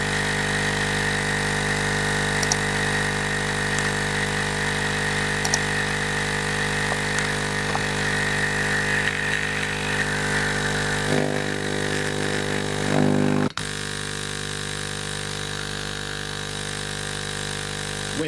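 A laser engraver's air assist pump runs continuously, giving a loud, steady motorized hum with a buzzing edge. Near the end the tone abruptly drops to a quieter, duller drone.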